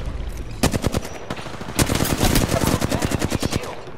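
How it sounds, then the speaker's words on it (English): Rapid automatic gunfire crackles in the video game Apex Legends: a loud, dense stream of close shots in quick bursts, with a brief pause before the firing resumes and continues to the end. "I am taking fire, friends."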